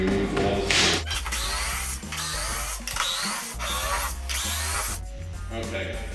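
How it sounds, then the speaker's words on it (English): An electric drill whirs in repeated bursts, pausing and restarting as it backs out screws from a Royal Sovereign laminator, close and fairly loud. "now we take our electric drill and we're going to remove all the screws"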